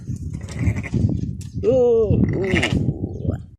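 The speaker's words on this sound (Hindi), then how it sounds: "ये सामने वाले भेड़ को पकड़ना पड़ेगा, फिर ये दो बच्चे उसका दूध पिएंगे।" Sheep and lambs bleat several times on a goat and sheep farm in a village near Madinah, Saudi Arabia, the close, loud bleats standing out over low background chatter.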